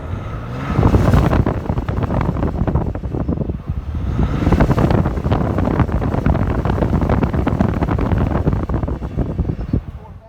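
A 2020 Ram EcoDiesel 1500 pickup truck drives into an off-road park, engine and road rumble running loud throughout with heavy wind buffeting on the microphone and a voice talking over it.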